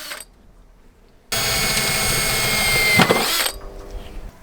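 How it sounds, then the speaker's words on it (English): A power drill whirs loudly and steadily for about two seconds after a quiet start, drilling into the metal frame of an RV cargo door opening, then winds down, leaving low background hum. "now we're just going to drill some holes in the top and bottom"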